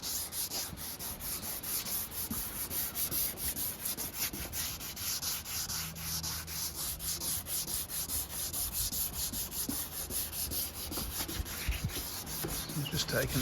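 Paint on a BMW K 1200RS motorcycle fairing being hand-sanded, a steady close scratchy rasp of sandpaper strokes that continues without pause, with no voices over it.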